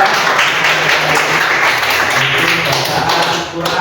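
A classroom group applauds a student group after their presentation, with a dense, steady clatter of clapping hands and some voices mixed in throughout.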